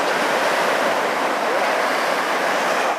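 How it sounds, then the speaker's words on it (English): Sea waves rolling in at high tide against the wall of a Normandy D-Day beach at dawn, a steady broadband wash of surf, loud and close, with wind noise over the microphone. "When we have got the tide, the sea coming up to the wall, that's because it's a high tide of nearly full moon."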